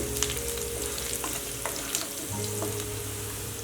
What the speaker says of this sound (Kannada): ಸ್ವಲ್ಪ ಮೆಣಸಿನ್ಕಾಯಿ ಫ್ರೈ ಆಗಲಿ